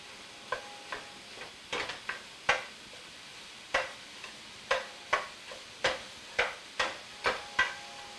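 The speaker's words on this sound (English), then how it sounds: "Just gonna break this sausage up in there real good." Wild hog sausage and onion fry in a pan under a faint steady sizzle, while a spatula breaks up the meat with sharp, close taps and scrapes. The strikes come irregularly at first, then settle into a fairly even rhythm.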